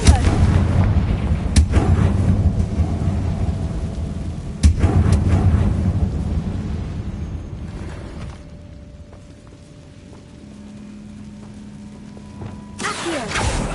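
Confringo fire spell explosions in Hogwarts Legacy, loud booming blasts near the start, around two seconds and near five seconds, then a quieter rumbling lull with faint tones before another sharp burst at the end.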